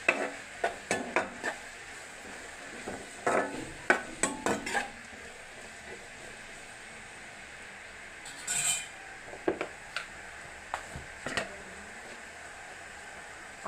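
Sliced onions for a fish curry stirred in a pan, with repeated scraping and clinking strokes in irregular bursts over a low, steady sizzle, close by.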